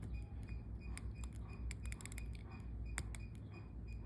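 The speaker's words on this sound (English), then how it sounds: "The bezel has a beautiful 120 clicks movement." A Seiko Orange Monster SRP309 dive watch's unidirectional 120-click bezel being rotated, giving quiet, close, crisp ratcheting clicks in irregular bursts with no talking.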